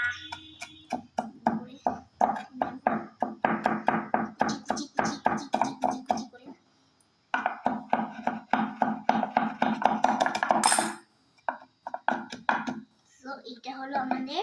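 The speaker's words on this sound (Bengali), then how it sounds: "আমরা একটু শসা পেঁয়াজটা কেটে নিচ্ছি, কুচি কুচি করে একদম কেটে নেব" Cucumber and onion being finely chopped on a board with rapid, steady knife taps in long bursts, close and distinct, pausing briefly midway before resuming.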